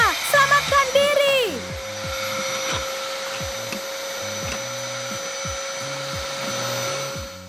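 A steady vacuum cleaner drones continuously at close range, with a steady whine, while rhythmic music plays underneath and a short vocal sound opens it.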